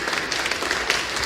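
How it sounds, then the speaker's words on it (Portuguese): A church congregation applauding together during a sermon, dense steady clapping from many hands filling the room, brief and fairly loud. "Uma salva de palmas para Jesus."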